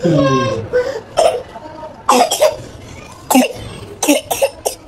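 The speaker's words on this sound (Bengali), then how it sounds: "কাশি হয়েছে কা?" A child coughs in a series of short, sharp bursts, about six or seven, with pauses between them; a voice is also heard at the start, close and fairly loud indoors.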